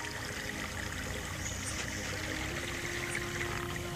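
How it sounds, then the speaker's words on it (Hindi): A small waterfall stream pours down a hillside in a steady, continuous rush of water, close and evenly loud throughout with no voices. "छोट झरणा जोटा कि पहाड़ रू पानी आसुची"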